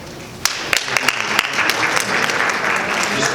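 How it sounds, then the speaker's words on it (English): Audience applause at a Fountain Hills, Arizona town council candidate forum: a dense, continuous wash of clapping from a crowd, with a few sharper individual claps standing out near the listener. "Just a round of applause till the end"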